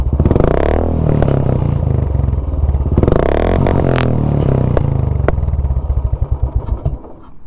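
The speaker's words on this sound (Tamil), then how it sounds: "வெடிக்குது பாருங்கள்." Loud pops and crackles from the aftermarket exhaust of a fully modified Royal Enfield Classic 350, close up, through repeated revs that settle into a choppy, thumping idle, no voices.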